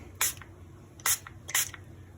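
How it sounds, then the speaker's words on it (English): Three short hissing bursts from a fine spray bottle, each a quick spritz, spaced unevenly with quiet pauses between them. "I'm going to spritz it with my fine spray bottle and see what happens."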